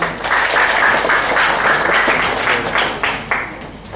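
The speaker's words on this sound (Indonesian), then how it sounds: "beri tepuk tangan" Audience clapping at a creative-entrepreneurship seminar and talk show, a dense, fairly loud burst of applause that holds steady and then gradually thins out toward the end.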